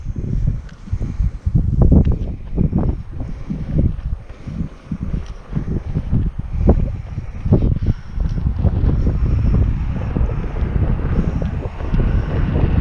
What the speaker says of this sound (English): I still hear in the background something that sounds like a plane engine